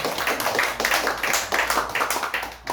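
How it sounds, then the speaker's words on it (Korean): A church congregation claps in welcome for a visiting elder, a close, moderately loud patter of individual hand claps with uneven rhythm throughout. "박수로 한번 환영하시겠습니다."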